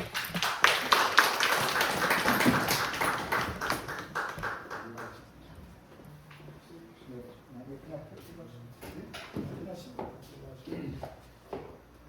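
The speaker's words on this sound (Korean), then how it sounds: "우리 선교사님의 박수로 맞이하겠습니다." Warm applause from a church congregation at a Wednesday service, welcoming a missionary who served in Germany, is dense for about five seconds and then thins to scattered claps and shuffling while people talk.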